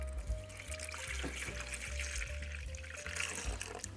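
Water pours into the reservoir of a fog machine for a DIY smart pumpkin, a continuous close splashing trickle with small gurgling bumps throughout, no voices.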